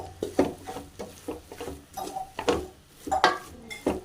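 A spoon scrapes and clinks against a bowl as chopped chicken kabab mixture is folded together with onion and coriander, making irregular close taps and soft rubbing strokes at a modest level.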